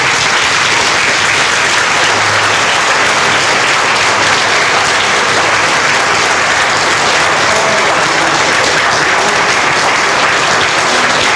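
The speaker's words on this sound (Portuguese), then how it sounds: "Vamos aplaudir o Senhor bem forte." Church congregation applauding loudly and continuously during a Portuguese-language sermon, a thick, unbroken roar of many hands clapping close by for over ten seconds with no pauses.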